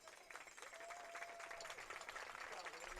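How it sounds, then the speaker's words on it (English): Crowd applause for graduating seniors at a women's college softball championship game, a continuous patter of clapping from spectators in the stands, fairly distant and even, lasting the whole moment with a faint voice underneath. "Round of applause there for all the graduating seniors"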